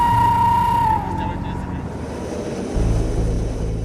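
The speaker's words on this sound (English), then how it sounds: "Over on the runway, one squadron has just landed." Military aircraft on the runway at Kandahar airfield at night, a loud steady engine roar with a high whine that drops, then a deeper rumble surging back, heard close and continuous.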